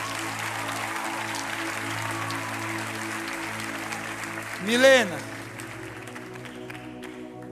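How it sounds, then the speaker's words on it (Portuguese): A church congregation applauds a girl, continuous crowd clapping over a soft musical drone, with a voice speaking over it and a brief louder swell midway. "Dá uma salva de palmas para essa menina."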